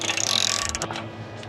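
A hand ratchet tightens a replacement wheel stud on a Lexus IS 250, giving a fast run of close, loud metallic clicks that then slows and thins to a few scattered clicks.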